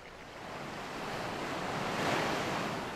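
Surf rolls steadily on the unfrozen ocean of an Alaskan lagoon in late October, a continuous broadband wash that swells slightly louder toward the end, with wind noise mixed in and no voices.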